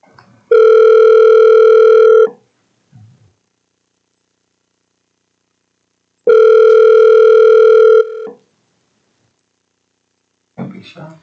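Telephone dial tone in a meeting room, two loud, steady tones of about two seconds each separated by a pause, with brief faint voices between and after.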